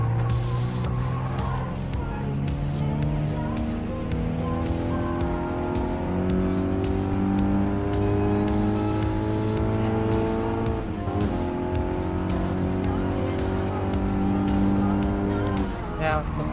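Toyota S-FR concept roadster racing through its final lap in Gran Turismo Sport, a steady engine drone rising and falling in pitch through gear changes, with faint tire noise and a voice talking over it throughout.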